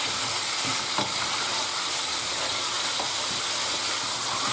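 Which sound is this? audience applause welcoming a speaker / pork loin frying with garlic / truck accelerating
pork loin frying with garlic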